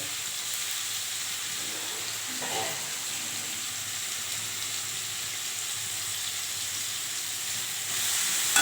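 Garden vegetables sauté in a pan for a curry, making a steady, moderate hiss and sizzle with a couple of brief stirring scrapes early on.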